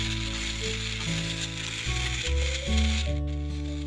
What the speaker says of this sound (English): when using your magic bullet, you definitely want to do it in a pulsing motion